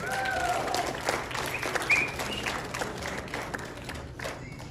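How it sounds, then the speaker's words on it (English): Party guests applauding and cheering for the performers and DJ, a lively crowd clapping steadily with a few whoops and voices mixed in. "Let's give a big round of applause for them."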